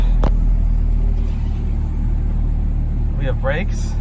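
A Volvo V70R wagon drives along with a low, steady engine rumble heard close up, and a voice speaks briefly near the end.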